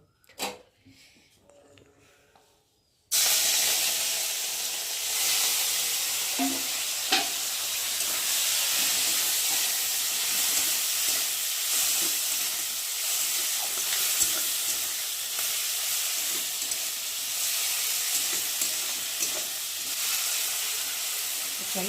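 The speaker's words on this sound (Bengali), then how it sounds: "আর এখন আমি চিংড়ি মাছগুলোকে ভালো করে ভেজে নেব।" Prawns fry in oil in a kadai, a wok-style pan, with a loud, continuous hissing sizzle that starts abruptly after a few seconds of near quiet and holds steady, dotted with small pops and crackles.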